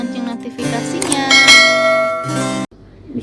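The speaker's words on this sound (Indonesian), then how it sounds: "aktifkan lonceng notifikasinya" A bright notification bell chime rings out in a short ringing flourish, loud and clear, then cuts off abruptly into near silence.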